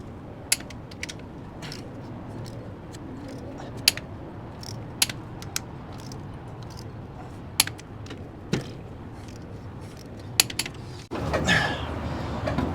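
Sharp ratcheting clicks from a torque wrench tightening bolts on a one-owner 1970 Ford engine, parked 22 years, to 40 to 45 foot-pounds. Isolated clicks come at irregular intervals over a low mechanical hum, then a louder rustling burst.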